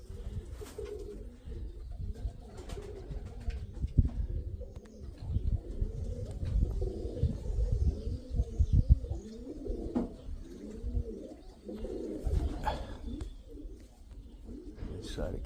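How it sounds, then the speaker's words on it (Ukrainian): Pigeons of a Mykolaiv flying breed cooing steadily in a loft, low throaty coos repeating through the whole stretch, mixed with rustling and occasional chirps, with people talking nearby. "Треба подивитися, що це за голубиня."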